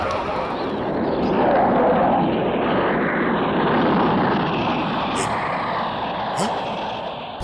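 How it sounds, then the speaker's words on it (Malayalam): A stage-show sound effect of an airplane flying past: a loud, broad, steady engine roar that swells and fades across the clip. "ദുബായ് ഫ്ലൈറ്റ് ആ പോകുന്നത്."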